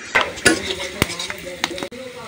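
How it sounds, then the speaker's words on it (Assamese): Panch phoron and onion fry in hot oil in a kadai, a low sizzle broken by sharp metallic clinks and scrapes of a spoon stirring against the pan. "ইয়াত এতিয়া পাঁচফোৰণ পিঁয়াজ জ্বলা এইবিলাক দি ভাজি ল'ম"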